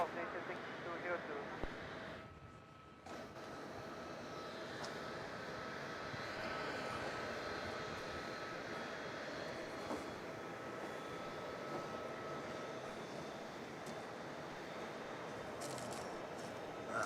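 A jet airliner takes off from runway 34 at Melbourne Airport in the evening, a steady broad roar holding for the whole stretch at a distance, with faint chatter mixed in.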